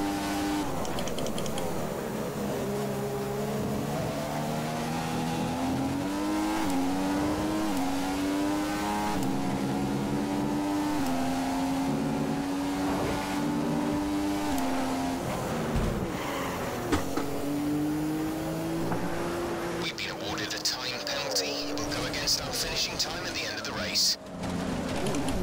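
Race car engine in a racing video game, held at a steady high drone with rising and falling pitch sweeps as gears change. It runs loud and continuous throughout, with a person talking over it.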